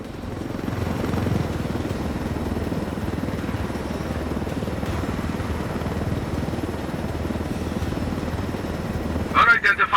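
A helicopter in the Ghost Recon Wildlands video game flies with a steady, loud rotor thump and engine drone held throughout, and a brief electronic blip near the end.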